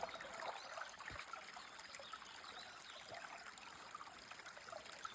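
Water trickles and flows steadily at the Oak Creek crossing, a close, continuous babbling stream with no voices.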